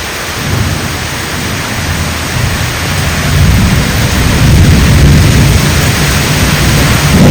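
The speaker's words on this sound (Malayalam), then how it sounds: "മഴയുടെ ഒരു എഫക്റ്റ്. കാറ്റാണെങ്കിലും അത് ശക്തമായ കാറ്റാണ്." A heavy downpour with strong wind and thunder roars in Kerala, a loud unbroken wash of rain noise that swells stronger about halfway through, with no one speaking.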